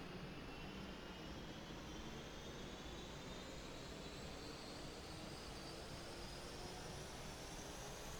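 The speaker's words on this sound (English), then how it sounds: "Wait for the engine to start up." A Huey helicopter turbine engine in the DCS flight simulator winds up from start, a steady broadband roar with a slowly rising whine throughout, with no talking over it.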